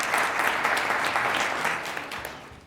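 At a city council meeting, the audience gives a short burst of steady clapping that fills the room and tapers off toward the end.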